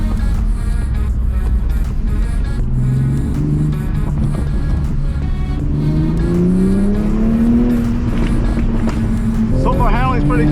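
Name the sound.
Toyota A90 Supra exhaust crackling while driving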